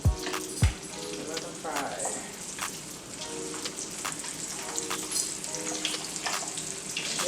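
Meat frying in hot oil for a spinach stew, a steady close sizzle with crackles and a couple of sharp clinks at the start; no talking over it.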